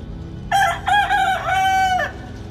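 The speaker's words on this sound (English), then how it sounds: "Crowing a little early, isn't he?" A rooster crows once up close, a loud, clear cock-a-doodle-doo of about a second and a half rising and falling over quiet background.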